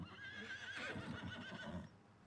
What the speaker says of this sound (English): Let's go take one of the horses for a spin while we're waiting here.